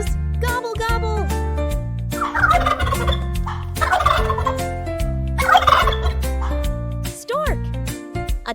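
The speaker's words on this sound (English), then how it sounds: "Turkey, a big farm bird with fancy feathers. It goes gobble, gobble." Turkey, a big farm bird, gobbling in several loud, rapid bursts set over steady music.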